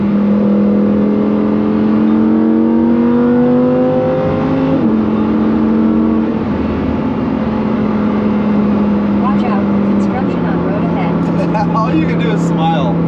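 Lamborghini engine revving with crackling exhaust pops, a steady droning tone that shifts pitch as revs change, with sharp pops scattered near the end; close and loud, with someone talking over it.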